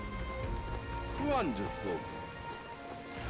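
Steady rain from the Metaphor: ReFantazio video game falls as a continuous wash of patter, with a brief spoken word and a short voiced exclamation rising over it near the middle.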